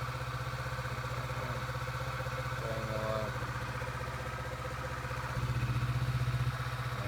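A 2017 Kawasaki Vulcan 650S motorcycle with modified wiring runs at a steady idle, its engine a continuous close-up drone with a firmer, louder stretch toward the end.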